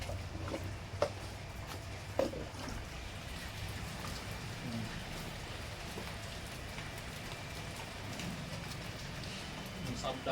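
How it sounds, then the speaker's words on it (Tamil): Steady rain pours outside during a morning Pradosham temple meal in Panruti, a continuous hiss with a few louder drops, while people talk quietly underneath. "இன்னைக்கு மழை பாருங்க."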